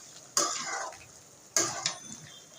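Marinated chicken is stirred in a cooking pot in two short scraping bursts a little over a second apart, fairly close, with quiet pauses between and no talking.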